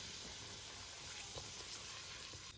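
Scalding hot oil poured into a small bowl of flour and salt, crackling and sizzling in a steady hiss with faint popping, close and fairly quiet, with no voices.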